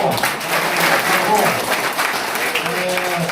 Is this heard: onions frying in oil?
no